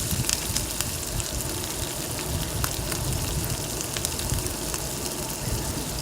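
Hot rice bran oil spooned over onion bonda batter sizzles and crackles in a steady, even hiss that holds at constant loudness throughout, with no talking.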